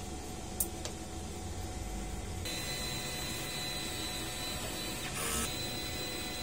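A DTF printer runs its head cleaning cycle with a low, steady mechanical whir and hum. Brief clicks near the start and a louder whirring burst near the end mark the moving parts.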